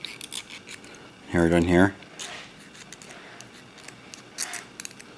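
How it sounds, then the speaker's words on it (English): A commercial lock pick is raked across the pins of a lock held with a tension wrench, giving light scratchy clicks and a brief metallic zip, fairly faint and close, right after a short spoken remark. "you can hear that zipping sound"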